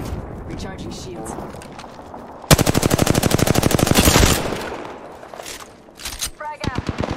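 Sustained automatic gunfire from Apex Legends erupts into a dense, rapid burst of shots lasting a couple of seconds amid game voice lines and other combat noise, then fades into scattered action.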